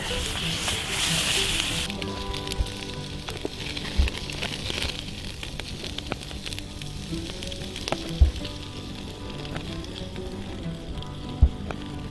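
Steady, close sizzling of food frying in a pan over a campfire in snow, with a few dull knocks; an early burst of louder hiss fades into continuous crackle.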